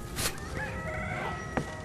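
Free-range native hens and roosters on a farm cluck and crow faintly in the background, with a short sharp call near the end and no speech.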